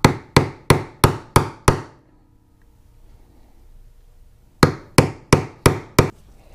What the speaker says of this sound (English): I'm just going to hammer it down